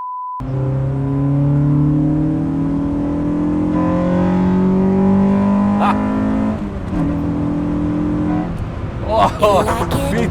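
A Honda Civic with a swapped B18 engine accelerates hard, the engine note climbing steadily through the revs as a loud, close droning rise, then dropping off near the end amid some cabin noise and a brief excited voice.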